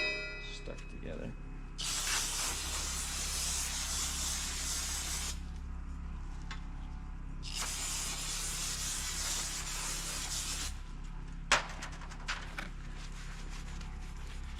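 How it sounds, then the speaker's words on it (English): Brake parts cleaner blasts from an aerosol can in two long, steady hissing bursts of about four seconds each, loud and close, with a low background hum and a sharp knock near the end, while working on International 500C dozer steering clutches. "I'm just simply using brake parts cleaner"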